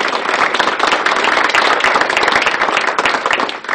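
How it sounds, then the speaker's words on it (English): Loud, close round of audience applause at a community First Friday gathering, many overlapping claps in a busy continuous burst that stays strong throughout with no voices on top. "A round of applause, please."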